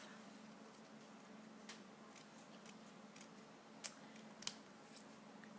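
Scissors snip through a punched paper shape to cut it in half for craft layering, giving a few soft, quiet cuts and small clicks against a faint steady hum.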